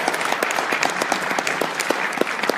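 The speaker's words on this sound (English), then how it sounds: "Clap for him" A burst of audience applause at a PAX East convention panel, many hands clapping steadily at a moderate distance, with no talking.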